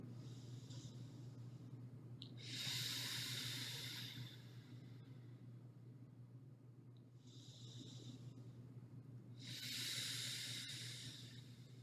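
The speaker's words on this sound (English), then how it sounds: "As we take 3 to 5 breaths here." Two slow, deep breath cycles during a yoga bridge pose, each a long audible inhale followed by a fuller hissing exhale, close to the microphone over a faint steady hum.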